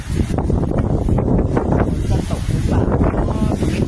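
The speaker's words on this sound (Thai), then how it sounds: "แต่วันนี้ลมแรงกว่าทุกวันนะฮะ" Strong wind buffets the microphone outdoors, a loud, rough, continuous rumble and roar that masks most other sound. A voice can be heard talking beneath it.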